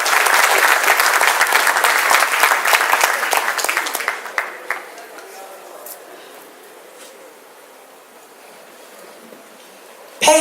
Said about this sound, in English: please join me in saluting him still with a round of applause